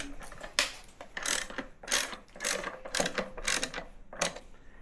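A socket wrench ratchets on a bolt of a Ducati Panigale V2 during a slip-on exhaust install, giving about seven quick, close clicking bursts at an uneven rhythm.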